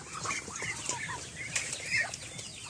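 Muscovy ducks and chickens on a farm, a mix of clucks, soft calls and wing flaps from several birds close by, steady and overlapping with no talk.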